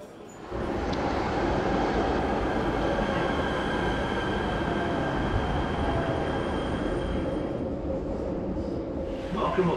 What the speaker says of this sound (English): Welcome aboard the Metro Expo Line.